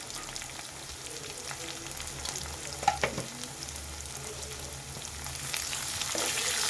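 Onions fry over a high flame in a pan, giving a steady close-up sizzle with occasional stirring scrapes and clicks and no talking.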